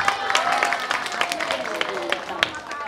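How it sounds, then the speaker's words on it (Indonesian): Children at a school anti-bullying seminar clap together in a short, busy round of applause, with dense irregular claps and some crowd noise underneath throughout. "Tepuk tangan lagi."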